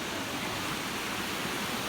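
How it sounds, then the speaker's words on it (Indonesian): Mino Falls in Japan pouring steadily, a dense, unbroken rush of falling water heard up close, loud and even throughout with no voices over it. "Ini lihat sungai-sungainya, dan itu air terjunnya tuh."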